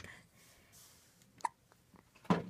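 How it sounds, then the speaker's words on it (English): A baby's hiccups, two short sharp catches a second apart, close and fairly loud against a quiet room. "And she also has the hiccups."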